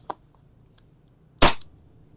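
A replica gun, apparently a 5.1K model, fires one sharp test shot in a quiet room during a quality check, preceded by a small click a moment earlier.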